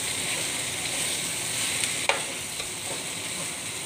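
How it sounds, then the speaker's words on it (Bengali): Chopped okra is stirred into onions and spices frying in a pan. There is a steady, close hiss of sizzling oil with a few soft scrapes of the spoon and no talking. "পেঁয়াজ মশলাগুলো একটু কষানো হওয়ার পরেই আপনি ভেন্ডি কুচিগুলা দিয়ে দিবেন, দিয়ে একটু নাড়িয়ে চাড়িয়ে মিক্স করে দেবেন"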